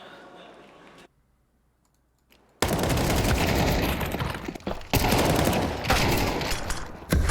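Counter-Strike gunfire during an esports match, a dense, loud rattle of rapid shots after a brief quiet pause, with an excited commentator talking over it.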